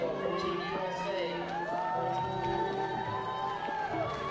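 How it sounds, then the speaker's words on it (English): A crowd at a women's bouldering World Cup qualifier in Vail cheers and whoops with scattered clapping, mid-distance, while an announcer talks over it. "She gets a polite round of applause from the crowd."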